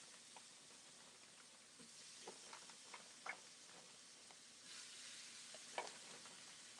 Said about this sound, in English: You hear that pan sizzling right on in there